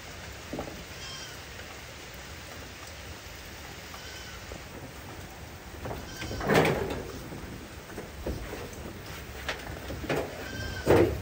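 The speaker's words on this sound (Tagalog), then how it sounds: "Ito yung ating isang kambing na magwa 1 month old." A goat kid of about one month bleats a few times, louder bursts near the middle and end, over steady background noise that sounds like rain.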